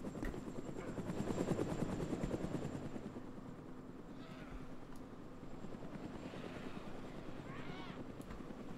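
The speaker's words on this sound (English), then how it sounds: "they just took off in the attack chopper or the Huey or one of the two. That's the Huey." Huey helicopter in the video game DayZ, a steady rotor drone that is loudest early on and then settles to a lower level, with faint voices in the background.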